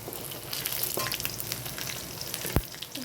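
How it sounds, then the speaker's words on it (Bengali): Whole dry red chillies fry in oil with garlic cloves, making a continuous close sizzle with a few stirring knocks, including one sharp clack near the end, and no voices. "এবার গোটা শুকনো লঙ্কা দুটো আমি দিয়ে দেব।"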